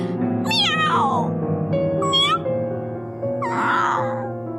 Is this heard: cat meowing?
yes